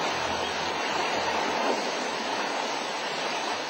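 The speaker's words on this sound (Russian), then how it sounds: "Река в этих местах глубокая, здесь сильное течение." A deep river with a strong current rushes steadily in Tibet, a constant broadband roar of flowing water with no pauses, close and fairly loud throughout.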